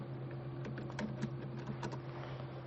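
Typing a command in a Linux terminal on a computer keyboard, a quick run of close, light key clicks over a steady background hum.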